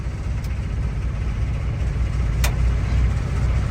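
A 1966 Kenworth Dart truck's engine running after ignition, a deep steady rumble with a low throbbing pulse, loud and close, with a couple of short clicks, no speech.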